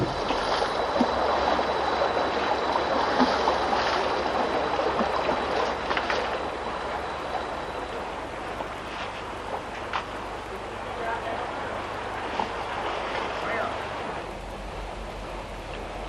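River water rushing and splashing as elephants bathe in the rain, a steady broad wash of flowing water and rain noise with occasional splashes, moderately loud throughout and no talking.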